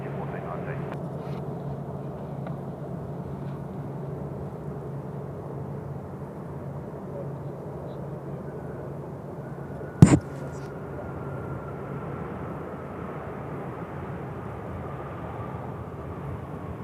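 A Fiji Airways A330-200 airliner on final approach at Sydney Airport produces a broad, steady jet roar that holds for the whole stretch. One sharp click cuts through midway.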